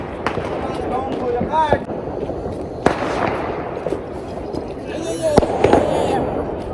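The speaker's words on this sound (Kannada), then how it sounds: "ಪಟಾಕಿ ಕ್ಯಾಪ್ಚರ್ ಮಾಡೋದು ಎಲ್ಲೆಲ್ಲಿ ಹೊಡಿತಿರ್ತಾರೋ ನಾವು ನೋಡೋ ಟೈಮಲ್ಲಿ ಹೊಡಿಬೇಕು." New Year fireworks go off in Germany, several sharp cracks and bangs scattered at irregular intervals near and far, with crackling bursts and people talking over them.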